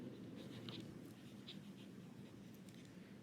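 Writing on a board during a set-theory lesson, a soft continuous scratching of a pen or marker with small strokes over a low, faint room hum, no talking.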